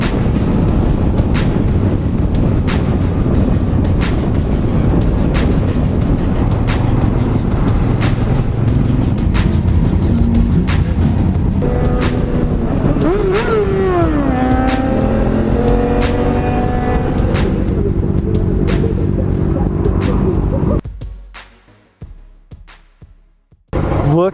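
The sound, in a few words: KTM 1290 motorcycle riding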